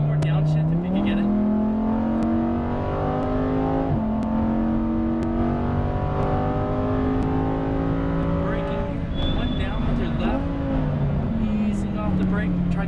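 A Lamborghini Huracan Performante on a racetrack, its engine rising in pitch through sustained revs, then blipping down through gears, loud and continuous beneath an instructor's voice coaching the driver.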